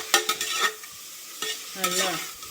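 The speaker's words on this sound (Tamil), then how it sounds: "தக்காளி போட்டு நல்லா கிண்டி விட்டுக்கணும்." Tomatoes being stirred in a frying pan for biryani, with a few scraping strokes of the spoon and a light sizzle between them, close up and alone with no talking.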